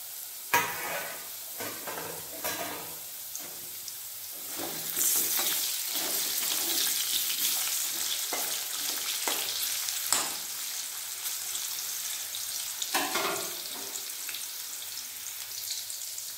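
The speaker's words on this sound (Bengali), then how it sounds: "আলুগুলো লাল লাল ভাজা হয়ে গেছে" Potatoes frying in oil in a pan give a steady sizzle that grows louder partway through, with scattered clinks and scrapes of stirring.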